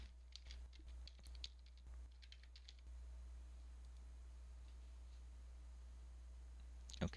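Password being typed on a computer keyboard at a desk: a quick burst of light, faint key clicks for a few seconds, then quiet room hiss and one last click.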